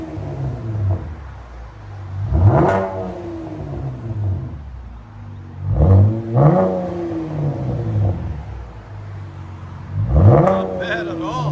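A 2017 Chevy Camaro RS with a 3.6L V6, X-pipe and Flowmaster axle-back exhaust, revved three times in sharp bursts that rise and fall back to a rumbling idle.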